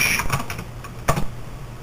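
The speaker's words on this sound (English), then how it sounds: "I'm just going to go onto Google and I'm going to type something in for you" Someone types on a computer keyboard in a quiet room, with a quick run of light clicks, a pause, then a sharper tap or two and a few more keystrokes, close and moderately quiet.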